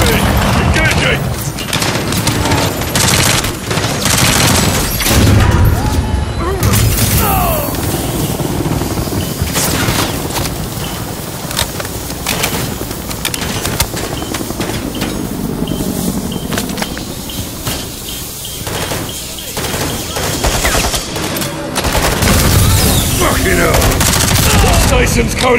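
Dense sustained gunfire directed at a helicopter in Call of Duty Modern Warfare III, a relentless loud fusillade of rapid shots and booms under rotor noise, with shouted voices mixed in throughout.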